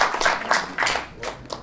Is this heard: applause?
yes